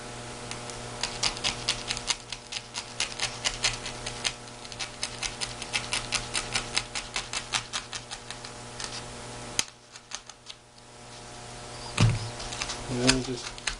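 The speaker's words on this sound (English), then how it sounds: "I'm just using an X-Acto knife to cut it all out." X-Acto knife slicing through kaizen foam, a quick run of light, dry ticking cuts close to the mic, fairly faint and steady, with a short pause and a couple of louder knocks near the end.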